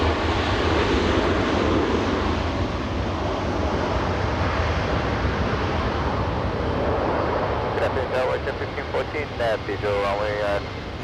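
A Lufthansa heavy Airbus taking off at LAX, a loud continuous engine roar with wind-like rumble filling the scene, and a voice talks over it toward the end.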